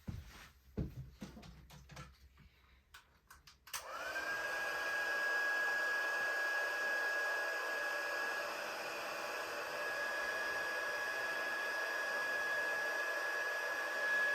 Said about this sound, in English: Takes a few minutes for the heat tool to warm up.